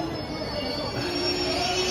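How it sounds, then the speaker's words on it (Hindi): A train at the Haridwar railway station platform in India gives a steady metallic wheel squeal over a continuous rumble, loud and close throughout, with a faint murmur of platform voices underneath. "अभी हम लोग हैं हरिद्वार रेलवे स्टेशन में और हम लोग निकलने की तैयारी में यहाँ से दिल्ली के लिए"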